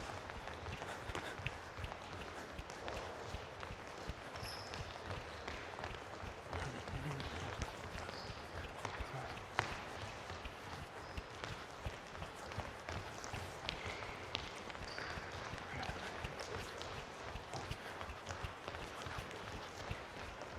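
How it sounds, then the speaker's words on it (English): A group of people runs in all directions around a room, producing a constant patter of many footsteps. The sound is faint and fairly even, continuing for about twenty seconds. "We're gonna run in all directions and change directions."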